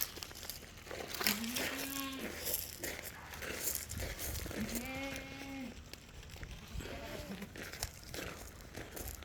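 Goats at a livestock sale, a mother goat with her young kid among them, give several drawn-out bleats spaced apart over crinkling and handling noise, with faint background chatter.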